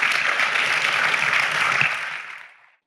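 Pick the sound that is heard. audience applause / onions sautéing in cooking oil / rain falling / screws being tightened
audience applause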